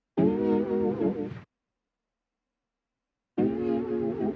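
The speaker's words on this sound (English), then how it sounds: "And then I added a pad sound." Synth pad from Loophole's Analog Live Bank in a dark vintage R&B sample, sustaining a rich chord for about a second and a half, falling silent, then swelling back in alone near the end.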